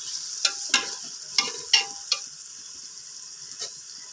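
Spice powders being sautéed for mutton biryani, a soft sizzle broken by a handful of sharp spoon scrapes and clinks against the pan, irregular and close.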